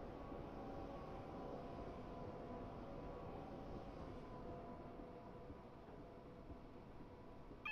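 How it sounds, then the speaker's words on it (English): Another train on the South London rail network rumbles past a moving Southeastern train, a steady low roar that holds for several seconds and eases slightly near the end. "Another train coming by."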